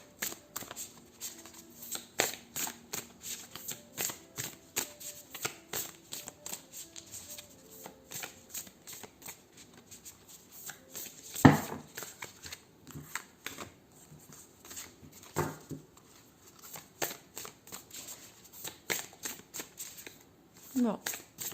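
A deck of ancient Egyptian healing oracle cards being shuffled, soft riffling flutters and taps repeating through a quiet room, with someone talking in between.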